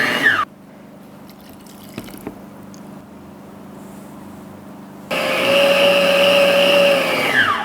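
An electric stand mixer beats homemade panettone dough with a loud, steady motor whine that drops to a quieter hum, then ramps back up to a higher, harder-working drone, close and without talk.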